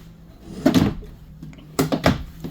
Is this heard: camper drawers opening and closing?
yes